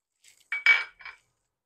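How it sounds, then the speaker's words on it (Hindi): A small hand beater whisks raita in a bowl, giving three short metallic clinking strokes, close and brief, followed by silence. "ये छोटा सा बीटर है मेरे पास, बड़े काम आता है मेरे।"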